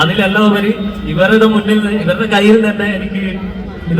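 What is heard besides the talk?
No everyday noise stands out behind the speech.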